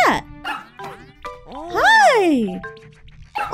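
A puppy barking in a Mario video game, a few short yips then a longer whining bark, clear and close, with other game sounds around it.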